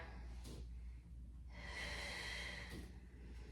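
Quiet, close breaths come through a sharp nasal intake and a long exhale during a mat pilates exercise, faint and with no voice over them.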